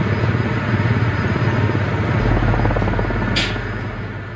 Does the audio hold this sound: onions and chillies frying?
no